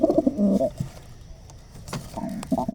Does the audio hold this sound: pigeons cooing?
yes